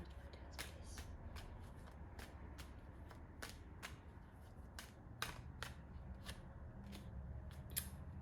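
Tarot cards being shuffled and drawn, giving a run of soft, crisp snapping flicks at an irregular pace over a quiet, low background hum, with no talking.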